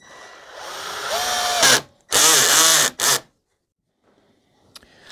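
An AEG 12V BBS 12C2 compact drill drives a screw into wood with a loud, steady whir that rises as the load builds, then two more short bursts of motor before it stops and the room falls nearly silent.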